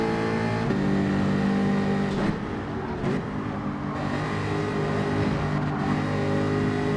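Race cars roar around a track in Gran Turismo 7, engines droning loud and steady with shifting pitch as a pack of cars runs together, with no talking.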